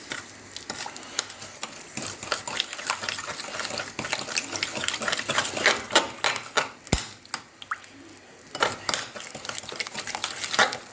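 Basbousa batter being mixed by hand in a bowl, wet sloshing and scraping strokes with irregular clicks of the utensil, close and fairly quiet.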